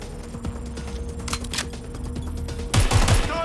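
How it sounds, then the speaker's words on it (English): Bursts of gunfire in the Watch Dogs Legion video game, a spatter of fairly faint shots with a louder cluster near the end, over a steady game background hum. "I'm taking fire."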